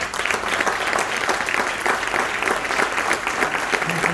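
An audience at a 2021 gastronomy awards gathering claps steadily for an honoree, a dense, even applause that holds for several seconds without a break, with no voices rising above it.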